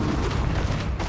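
A Confringo spell blast in the Hogwarts Legacy mobile game, a loud, dense booming burst of explosive rumble filling the whole moment, heavy in the low end.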